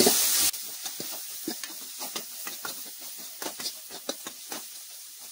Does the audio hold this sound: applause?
no